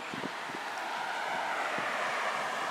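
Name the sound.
wind buffeting the microphone outdoors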